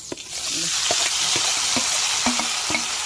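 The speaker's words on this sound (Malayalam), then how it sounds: "ഇഞ്ചിട്ട് വെളിച്ചെണ്ണ ഒഴിച്ച് ഇഞ്ചീനെ വറക്കാൻ പോവുകയാണ്" Ginger fries in hot coconut oil in a pan, producing a loud, close, steady sizzle with rhythmic scraping strokes as it is stirred.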